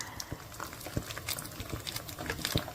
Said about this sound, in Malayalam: പച്ചക്കപ്പലണ്ടി ഇങ്ങനെ വറുത്തെടുക്കുക